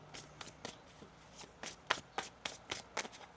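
A deck of tarot cards being shuffled by hand during a reading, a crisp run of quick riffling bursts and soft taps in an uneven rhythm, close and clear in a quiet room.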